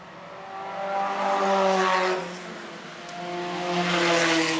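Vintage race cars at the 2015 Pittsburgh Vintage Grand Prix roar past at speed, engines rising and falling in two loud, close passes with no talk over them.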